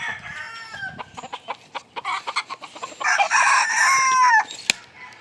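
Bantam self buff chickens in brood pens cluck in quick, close bursts, followed by a loud rising crow, with other fowl faint in the background.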